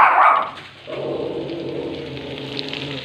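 A dog lets out a single sharp bark up close at another dog, followed by a quieter whining, murmuring sound.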